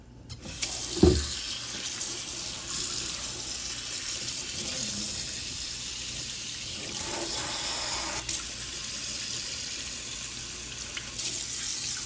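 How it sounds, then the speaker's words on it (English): Tap water runs steadily into a sink while a JET glass water pipe is rinsed out, a continuous splashing flow after a brief knock at the start, close and moderately loud. "So let's go ahead and rinse it out."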